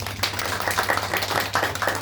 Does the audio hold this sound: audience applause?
yes